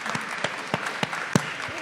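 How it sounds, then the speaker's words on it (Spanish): Scattered, sparse clapping from a small audience at a panel discussion on public cultural management, a few distinct claps standing out over a faint background. "Un aplauso, por favor."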